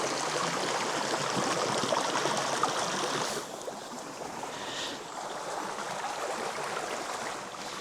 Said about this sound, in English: There's something about moving water that I just love.